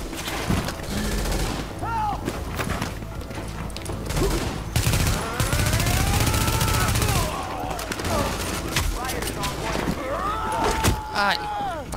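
Gunfire in the shooter video game The Division, with repeated bursts and single shots amid other game effects, while someone talks excitedly over the shooting.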